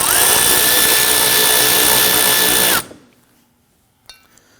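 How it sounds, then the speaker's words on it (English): A power drill drives screws into a parking sensor bracket on a 2010-2019 Ford Taurus, whining loudly and steadily at close range for nearly three seconds before stopping, followed by quiet with a faint tap. "Go ahead and install the screws."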